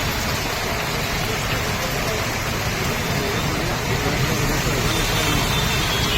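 Steady, heavy rain pours continuously as a dense, loud wash of noise that never lets up.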